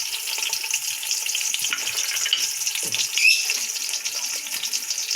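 A medium onion frying in hot oil for kadhi pakora, a steady close sizzle with occasional stirring scrapes and no talk.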